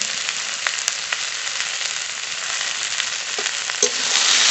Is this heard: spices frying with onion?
yes